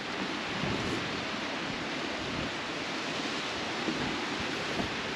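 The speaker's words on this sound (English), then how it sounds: "And it's windy and cold here." Cold wind blows across Tybee Island beach in a constant, loud, broad roar that buffets the microphone without letup; no one speaks.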